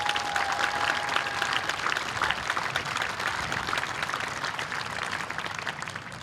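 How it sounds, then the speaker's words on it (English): Crowd applause at a Relay for Life 2015 event honoring the leadership team, sustained even clapping from a fairly large gathering, moderately loud and continuous throughout, with a brief tonal whine near the start. "Please give them a round of applause for their commitment."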